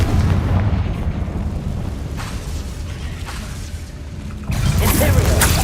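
A Confringo fire spell detonates in Hogwarts Legacy with a loud, rumbling blast, the roar sustained and then swelling again into a second burst near the end.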